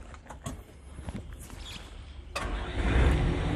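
A car engine turns over with a few clicks and then catches, settling into a smooth, low, steady idle close by.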